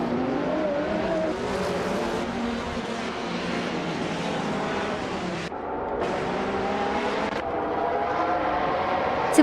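Video game race cars, a 1990 Mazda RX-7 among them, pull away from the start at Twin Ring Motegi West, a steady loud layered engine drone with shifting pitch and brief dips, continuous throughout.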